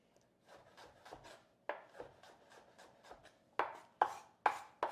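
A knife dices an onion on a cutting board in a home kitchen, giving a run of quick, close chops in short bursts, with the strokes growing sharper and louder toward the end.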